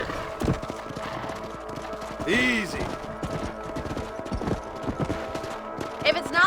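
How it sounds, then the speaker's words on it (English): Horses clip-clop at a trot in the Red Dead Redemption video game, with steady hoof beats under a man's brief spoken word and game sounds. "Let's get back on the horses and see what else is going on."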